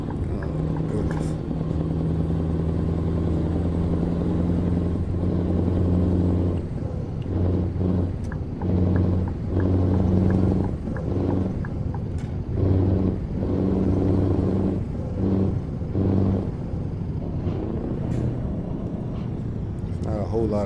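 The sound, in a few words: truck engine driving in Euro Truck Simulator 2 video game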